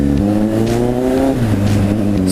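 Kawasaki Z900 motorcycle accelerating hard to overtake a car, its engine note rising steadily through the revs, then briefly dropping and climbing again, loud and close with wind rush.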